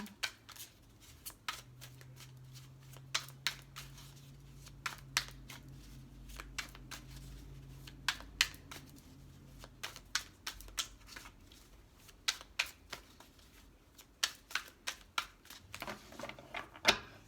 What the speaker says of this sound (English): Now this deck is like impossible to shuffle.